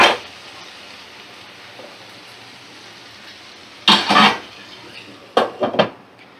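A spatula stirs leafy greens seasoned with turmeric in a cooking pan. After a near-silent stretch come two short bursts of metallic scraping and clatter, loud and close.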